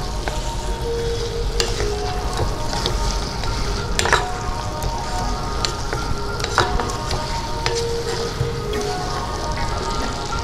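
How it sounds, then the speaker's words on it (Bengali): Potatoes with black pepper and green and red chillies fry for dum aloo in a pan with a steady, close sizzle, while a spoon stirs them in occasional scraping knocks. "আবারও একটু নাড়িয়ে চাড়িয়ে দিচ্ছি।"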